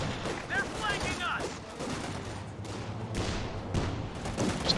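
Machine-gun fire and scattered battle noise from Company of Heroes 2, a World War II strategy game, crackle in quick bursts among explosions, with someone talking over the clatter.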